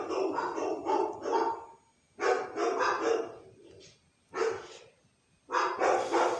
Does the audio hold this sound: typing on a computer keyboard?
no